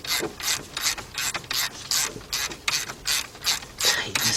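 A hand ratchet clicks in steady rapid strokes while tightening an alternator bolt on a 1986 Mercury Marquis with a 3.8 engine, close and alone, each stroke a burst of sharp pawl clicks.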